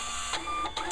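A thermal uniform label printer hums steadily as material feeds through its rollers, with a few brief louder whirring pulses over the constant mechanical drone.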